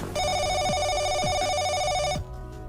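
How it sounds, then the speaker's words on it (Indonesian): A telephone rings in steady repeated bursts of a bright electronic trill, loud and close, with no talk, and it cuts off sharply just before the end. "tiba-tiba telepon berbunyi."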